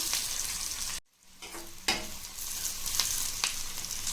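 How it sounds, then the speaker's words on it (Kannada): Onions frying in a tempering for vegetable sambar, a loud close continuous sizzle with a brief gap, then scraping stirs of a spoon against the pan. "ಅದಕ್ಕೋಸ್ಕರ ಇದು ಸ್ವಲ್ಪ ಒಗ್ಗರಣೆ ಆಗಲಿ, ಚೆನ್ನಾಗಿ ಫ್ರೈ ಆಗಲಿ."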